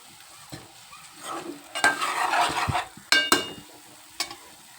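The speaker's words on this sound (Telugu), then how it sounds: "బెండకాయ బాగా వేగింది కాబట్టి చూసారా" Okra frying in a pan and being stirred, a steady close sizzle broken by several sharp scraping stirs, with no talk.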